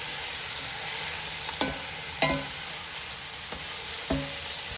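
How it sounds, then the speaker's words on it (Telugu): Prawns fry in a pan of biryani masala with a steady hiss, broken by a few sharp scrapes and knocks as a spoon stirs them. "ఇప్పుడు ఇవి బాగా ఇందులో వేగుతూ ఉడకనిద్దాం"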